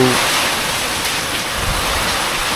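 Strong typhoon wind with rain in Bicol, a dense, steady roar of gusting air and water filling the whole clip, loud and close with no voices.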